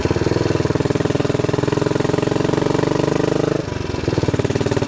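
Royal Enfield motorcycle engine thumping in a fast, even rhythm close by, with a brief stumble and dip in the beat as a gear is missed before the regular pulse resumes.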